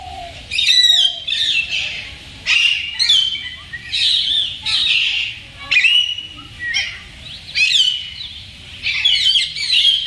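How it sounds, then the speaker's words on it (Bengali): A flock of parrots at a zoo calls repeatedly in loud, chirping and whistling bursts, close by, over roughly ten seconds with a fairly steady rhythm and no clear talk. "ওদিকে টিয়া পাখিগুলো আমাকে দেখে চলে আসছিল একেবারে ঝাঁকে ঝাঁকে"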